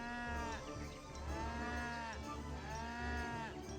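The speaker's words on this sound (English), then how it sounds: "Yeah, some of these cows are not very well." Cows in the Age of Empires 3 strategy game moo in long, drawn-out calls, two or three overlapping lows rising and falling against a steady game hum.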